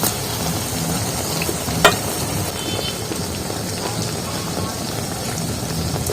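Helencha (himcha) greens and vegetable pakoras deep-frying in hot oil give a steady, dense crackle and sizzle throughout, with a brief sharper clatter near the start.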